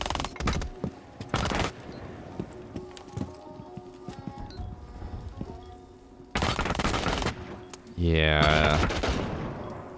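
SMG-12 gunfire from an online shooter video game, rapid bursts of shots scattered among game sounds, with a brief spoken word near the end.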